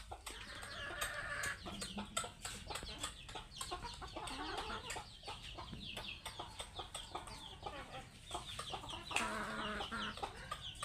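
A flock of chickens clucks and squawks together in a busy, overlapping chorus that keeps going throughout, fairly faint and somewhat distant.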